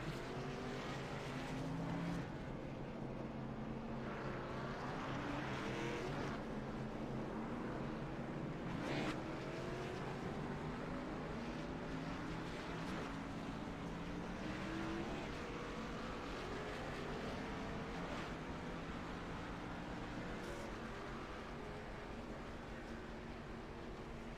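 Race cars at Daytona sweep down the back stretch in a continuous far-off roar of engines that swells and fades in layered waves, with no voices.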